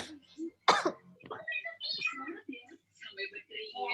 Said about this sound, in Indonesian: maaf aku lagi batuk-batuk